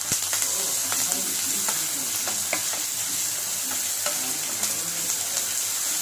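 Ginger garlic paste sizzles steadily in hot oil with curry leaves and mint for a chicken biryani, while a spoon taps and scrapes the pan at irregular intervals; there is no talk.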